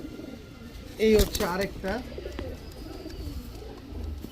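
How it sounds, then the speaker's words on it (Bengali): Naphta pigeons cooing in a pigeon loft, a close throaty coo rising and falling over a second or so, with softer cooing continuing in the background while someone talks. "প্রথমে বিশাল সাইজের একটা নাফতা কবুতর দেখাবো, এটা হচ্ছে আপনার নর।"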